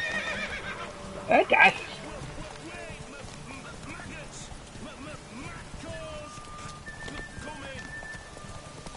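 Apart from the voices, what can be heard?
horse neighing and galloping in video game The Witcher 3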